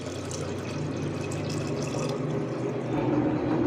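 Water poured into a pot to boil for coffee gelatin: a steady, close splashing stream of liquid filling the vessel, continuous for several seconds with a slight rise near the end, no voices.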